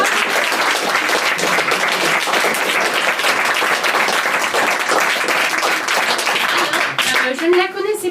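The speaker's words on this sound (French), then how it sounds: "je vous demande d'applaudir Lola. Bravo" An audience at a student theatre performance in Aix-en-Provence gives sustained loud applause for a young actress, dense clapping throughout that thins out toward the end as a voice begins to speak.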